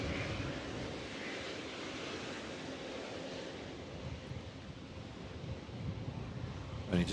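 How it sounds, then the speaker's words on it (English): An Airbus A350 taxis in at Manchester Airport in stormy winds, a faint distant engine rumble mixed with gusting wind noise, steady and low throughout, with a brief knock at the very end. "There's the A350 taxiing in."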